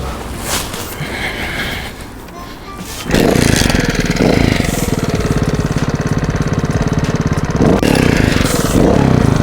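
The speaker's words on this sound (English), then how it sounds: "That 4-stroke sound!" A four-stroke trials motorcycle engine catches and settles into a loud, close, steady thumping idle, with a few brief blips of throttle.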